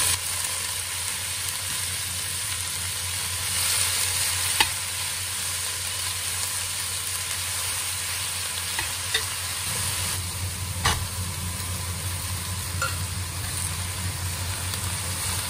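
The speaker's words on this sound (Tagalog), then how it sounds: "Kapag luto na ang kamatis, igigisa na natin ang ating repolyo." Cabbage sautés and is stirred in a pan with tomatoes already cooked, a steady sizzle under occasional spoon scrapes and clicks, with a low hum running throughout.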